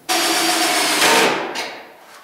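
A power screwdriver drives a single lateral screw into a face-clamped wooden board, giving one steady whirring burst that runs about a second, rises briefly, then tapers off, close and loud with no talk.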